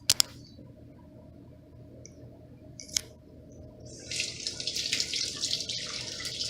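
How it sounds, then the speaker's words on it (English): A kitchen sink tap runs with cool water over fresh basil, a steady splashing rush that starts after a few quiet seconds with faint clicks and handling. "just rinse off the basil in some cool water in the sink"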